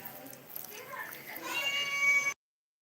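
A cat cries angrily at another cat nearby, a drawn-out, rising yowl that grows louder and harsher before breaking off abruptly.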